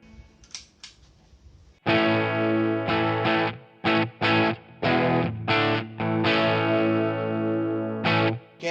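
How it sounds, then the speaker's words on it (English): A clean electric guitar tone through a POD HD500X multi-effects unit with stompboxes: sustained chords and strums ring out loud and close after a quiet start, with brief gaps between phrases and no talking. "Here is again the clean tone."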